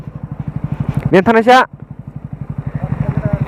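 A motorcycle engine idling close by, with a steady rapid thumping pulse running throughout and a short burst of male speech briefly over it.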